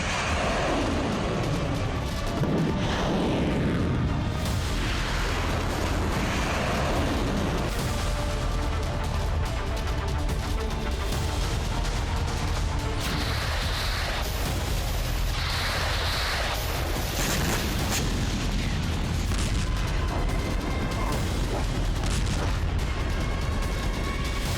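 Military rocket or artillery launch during the Russia–Ukraine war: a loud, sustained, roaring blast with deep booming rumble that swells and fades over about twenty-five seconds, without speech.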